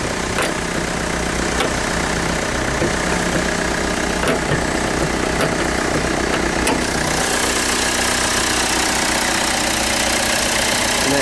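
A Hyundai Santa Fe with a 2.2 litre common rail direct injection diesel engine and four-wheel drive idles with a steady, loud, knocking clatter close by, a few sharp ticks standing out, and the tone brightens slightly toward the end.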